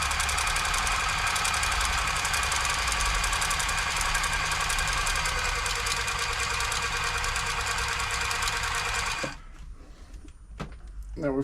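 A New Home L 312 sewing machine, freshly serviced, runs with a steady, dense whirring clatter for about nine seconds, then stops, leaving a few faint clicks and handling noises.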